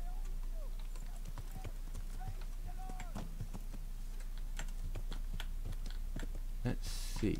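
Horse hooves clop in an uneven series of faint taps in a medieval role-playing game, under quiet game ambience, with a brief louder burst at the end; a voice is heard.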